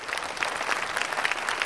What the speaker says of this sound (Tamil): ஓகே, அவருக்கு ஒரு கைத்தட்டல் கொடுத்துருங்க.